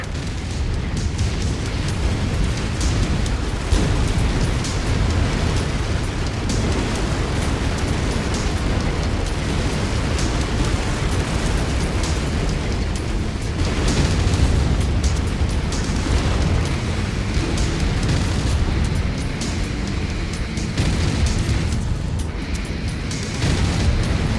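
A bomb blowing up in the MechWarrior 5 Mercenaries mech combat game, heard as a sustained, thick, rumbling roar of explosion and debris that stays loud and steady throughout with no voices.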